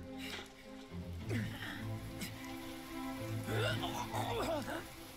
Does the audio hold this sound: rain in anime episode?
yes